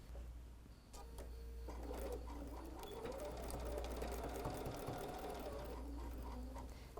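Close, fast rattling of a sewing machine stitching a straight seam to close a fabric face mask, starting after a brief pause and running steadily to the end with faint clicks.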